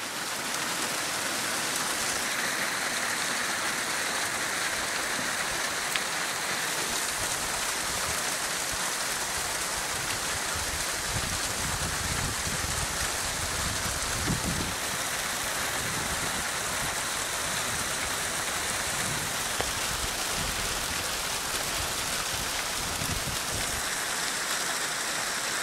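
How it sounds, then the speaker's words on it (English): A midwinter hail shower at the solstice pelts down outdoors as a steady, dense patter of hailstones that never lets up, with a faint low rumble beneath and no voices. "While we're having a hail shower."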